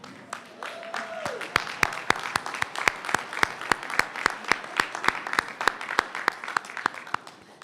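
Graduation ceremony audience for a Class of 2018 practical nursing program at Greenfield Community College clapping steadily under a dense wash of applause, with a few sharp, close claps punctuating the sound in a regular rhythm.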